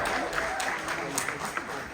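An audience at a zoo park theater show applauds the zoo team with steady, moderately distant clapping and faint crowd murmur throughout.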